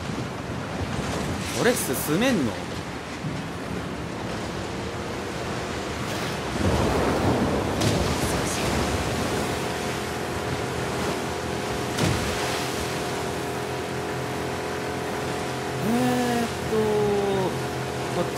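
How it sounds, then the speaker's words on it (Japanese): Storm wind and crashing waves in the video game The Last of Us Part II roar steadily throughout, with louder surges and a few creaks and whistles, while a voice speaks briefly. "いやもう嵐だよね、ここまで来ると。"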